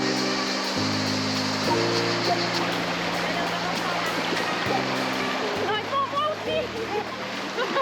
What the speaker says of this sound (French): On est dans une rivière incroyable quand même.